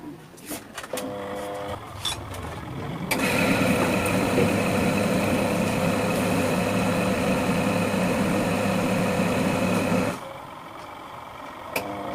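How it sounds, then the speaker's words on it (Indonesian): The electric motor of a washing machine's dryer drum runs under test with a steady, loud hum for several seconds, starting and stopping abruptly, with some clattering before it. "Sementara kita tes dinamo."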